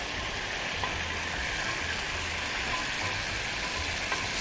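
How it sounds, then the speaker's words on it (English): Mixed vegetables tossed into a hot pan for a quick stir fry, a dense continuous sizzle at steady loudness with faint low rumbling pulses underneath and no talking. "So this is a very, very easy stir fry."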